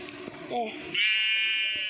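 A sheep in the Minecraft video game gives a short, nasal bleat, followed by a sustained high in-game buzz, while a person talks over the game sounds.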